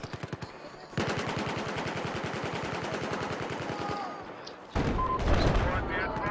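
Gunfire in Battlefield 4, a long sustained rapid burst of automatic fire followed by a louder, rougher blast near the end, with voices talking under it.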